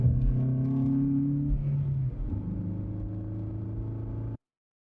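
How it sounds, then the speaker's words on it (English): Cabin view of a car accelerating: a deep engine rumble rising through the gears, loud and steady, with a brief shift dip midway before cutting off abruptly. "acceleration inside of car"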